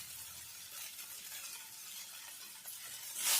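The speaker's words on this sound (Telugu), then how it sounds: "కొద్దిగా ఒక 2 నిమిషాలు ఫ్రై చేసుకోవాలి" Fenugreek leaves fry in a pan with a quiet, steady sizzle and faint stirring, ending in a brief louder scrape.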